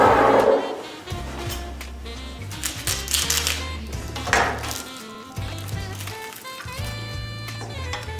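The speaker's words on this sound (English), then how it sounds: "Now we'll start cutting the chicken." A knife knocking repeatedly against a cutting board in uneven taps and slices while cutting cooked, cooled chicken, fairly close, with faint clinks between strokes.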